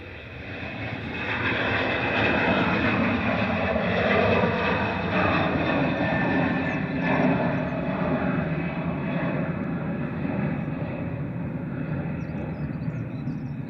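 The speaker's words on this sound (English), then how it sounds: "On the roll, Ryanair to Mahon on the Spanish Balearic Island of Menorca, the northernmost one. Flight 3836, this is EIEVV, a 737-800." Ryanair Boeing 737-800 on its takeoff roll at Manchester Airport, a broad jet roar swelling within the first two seconds, then holding loud and steady, with a whining tone through the middle, easing slightly toward the end.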